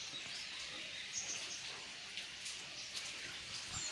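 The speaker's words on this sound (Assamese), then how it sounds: "বৰষুণ পৰি আছে।" Light morning rain patters softly and continuously, with scattered drips standing out against a quiet, even hiss; no one speaks.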